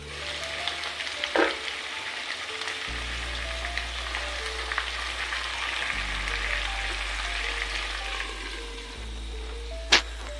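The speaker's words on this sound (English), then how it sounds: "Stirring well, I covered the pot to let it simmer." Githeri with potatoes simmering in a covered pot gives a steady, soft sizzling hiss over a low hum, with a few sharp clicks and a brief tap near the end.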